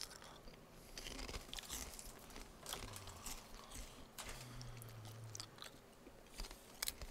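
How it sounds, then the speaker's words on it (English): Close crunching and chewing of food by someone playing the Thief 2 fan mission Rust Belt Prison, irregular crisp bites and mouth sounds, faint overall with a couple of low hums from the game underneath. "Sorry if the crunching is fucking loud as shit."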